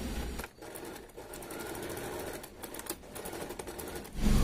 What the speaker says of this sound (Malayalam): അതിനുശേഷം ഇവിടുന്ന് ഇങ്ങനെ ക്രോസ് ആയിട്ട് നമുക്ക് തയ്ച്ചെടുക്കാം